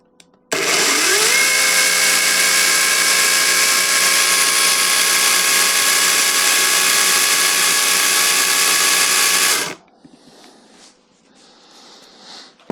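Parkside budget chainsaw running with its chain guard off, a loud steady high-pitched motor whine held for about nine seconds before cutting off, followed by faint handling noises.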